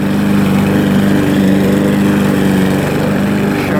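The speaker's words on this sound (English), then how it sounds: "this is what a self-propelled lawnmower looks like at Walmart" A self-propelled push lawn mower with a 6.5 horsepower engine runs loud and close, holding a steady rough drone with a low buzzing pulse that barely changes, and no one speaks.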